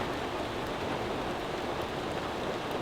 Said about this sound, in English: it's raining rather hard